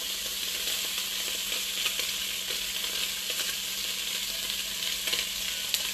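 Meat searing in a hot pan before onion is added for a meat dish with zucchini and corn, a steady close crackling sizzle with occasional light stirring, no talk.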